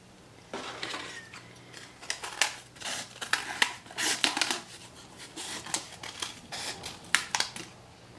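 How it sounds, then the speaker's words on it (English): Corrugated cardboard being cut into a circle, giving faint, close, irregular snips and scratchy crunches that come in quick bursts over a quiet background. "So cut your circle out."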